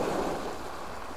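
Mediterranean Sea waves washing onto the shore, a steady broadband wash with some wind buffeting, moderately close and continuous, no voices.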